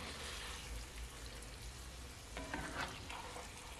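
Ackee and salt fish are gently folded and stirred in a hot pan, giving a soft, steady sizzle with a few scraping stirs near the end, quiet and close.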